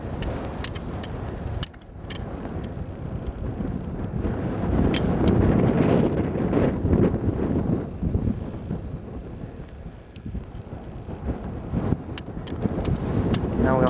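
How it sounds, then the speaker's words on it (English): Strong wind gusting outdoors on a frozen lake during ice fishing, a loud rushing roar buffeting the microphone with rumbling swells and sharp crackles throughout. "Wind's blowing pretty good out here."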